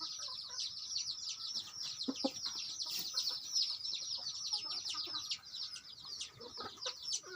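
Chickens on a Thai poultry farm cluck and chatter in a dense, continuous flock chorus, moderately distant and fairly quiet, with occasional louder calls standing out.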